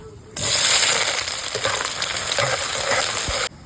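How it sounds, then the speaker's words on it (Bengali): Chopped onions hit hot mustard oil in a wok seasoned with cardamom, cinnamon and bay leaf, bursting into a loud, steady sizzle that holds for about three seconds before cutting off, with a few stirring scrapes. "হ্যাঁ পেঁয়াজ ভাজা হয়ে গেছে"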